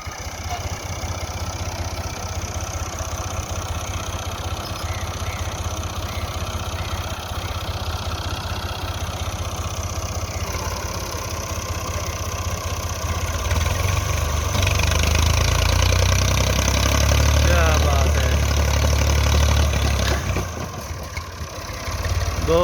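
An MF 240 tractor engine runs steadily nearby for over twenty seconds, a throbbing diesel rumble that grows louder and deeper partway through as it labours, then eases off near the end.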